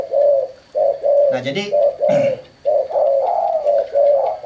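A tekukur or perkutut dove coos repeatedly up close in a steady, rhythmic series of low hollow notes, while someone speaks briefly over part of it.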